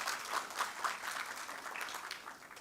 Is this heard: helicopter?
no